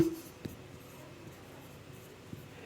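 Writing on a board during a 12th-grade physics lesson on electric dipoles: soft scratchy strokes with a few small taps, fairly quiet, with no speech over them.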